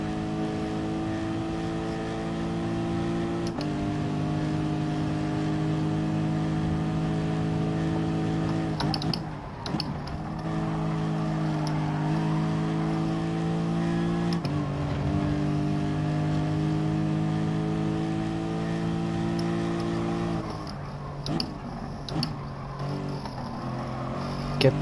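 A racing-game car engine revs hard against the rev limiter, holding a steady high buzzing drone, with a few sharp dips and stutters as it bounces off the limiter and shifts.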